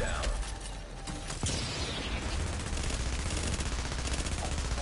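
Sustained gunfire from The Division, a dense, continuous barrage of rapid shots filling the whole stretch at steady loudness, with a brief sharper crack near the middle.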